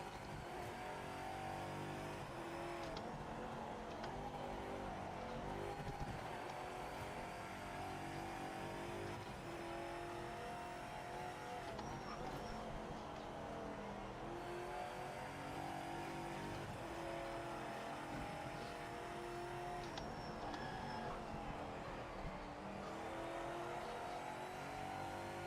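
A GT race car laps a circuit in the racing game Project Motor Racing on hot tyres, its engine droning and revving steadily throughout with shifting pitch, the sound loud and continuous with no voices.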